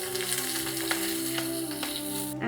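Onions and curry leaves sizzling in hot oil in a pan for a Tamil meal, a soft, steady crackle with a few brief pops, ending abruptly after two and a half seconds.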